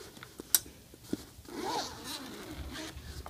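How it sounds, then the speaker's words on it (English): The zip on the lid of an insulated Picnic at Ascot picnic basket cooler is opened close up, a quiet rasping pull after a couple of sharp clicks. "Unfold the top two arms and unzip the lid."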